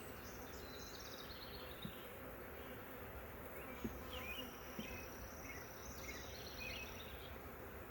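Honeybees buzz steadily around newly set up hives, a dense low drone with individual bees flying close past, joined by a few faint chirps and soft clicks.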